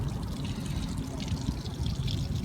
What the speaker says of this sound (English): we're right by this fountain right here